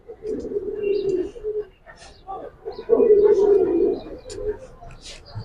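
Close, loud cooing from Giribaz pigeons comes in two long throaty rolls separated by a short pause, with a voice talking between and around them.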